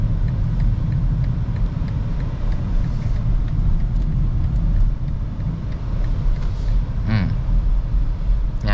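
Inside a 2022 BMW 630i GT M Sport LCI driving and turning on the road, a steady low road and engine rumble fills the cabin, with a brief chime partway through.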